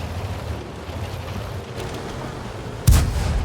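A tank cannon fires in the World of Tanks game, a single loud, deep boom that bursts out near the end over a steady rumbling background.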